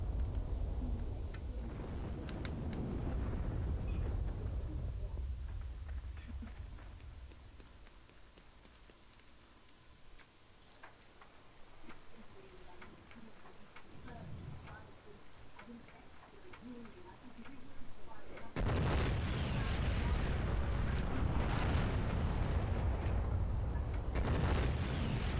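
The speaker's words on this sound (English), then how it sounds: "is that tank shooting? Is that why there's like everything is exploding?" Tank cannon fire and explosions in the World War II shooter Heroes and Generals, heavy booming blasts with rumbling tails that swell, fade and then return as loud, roaring bursts late on, while players talk over them.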